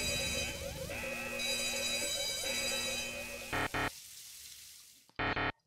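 A fire alarm in the video game JazzPunk blares loudly as a dense, shrill electronic tone with stepped pitch patterns, then cuts to short harsh bursts separated by near silence.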